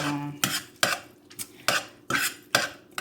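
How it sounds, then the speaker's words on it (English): A utensil stirs seasoned meat in a big pot, giving six or so sharp, close scraping clinks at a steady rhythm, each fading quickly, with no voices. "then I just stir this a little bit to get the seasoning"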